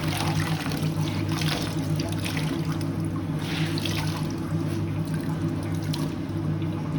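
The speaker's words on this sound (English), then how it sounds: "once the fabric is fully soaked, squeeze out the water" Water trickles and splashes steadily into a sink as soaked fabric is squeezed out, a soft continuous dribble over a low mechanical hum.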